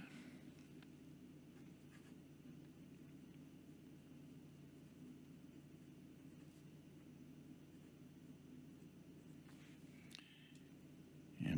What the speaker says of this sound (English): This is Clairefontaine 90 GSM paper we're writing with today.